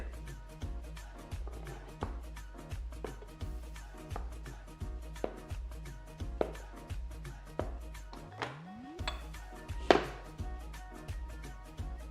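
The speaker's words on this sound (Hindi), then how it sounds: "तब तक मैं पनीर काट लेता हूं। मेरे पास 250 ग्राम पनीर है, इसके छोटे छोटे क्यूब्स काट लेंगे।" Knife chopping a 250 g block of paneer into small cubes on a board: steady, evenly spaced thuds in a regular rhythm, close and clear, with no talking.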